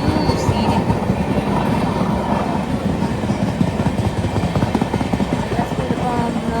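Train running on the rails on a trip toward Kollur in Kerala, a loud continuous rumble and rattle heard from on board, with steady rhythmic clatter and no break.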